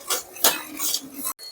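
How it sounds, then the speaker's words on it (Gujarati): Spoon scraping and knocking around a pot of curry as crushed peanuts are stirred in, a few close rhythmic rubbing strokes with soft clinks, no voices. "સિંગદાણાનો ભૂકો નાખી દઈશું. અને હલાવી લેશું."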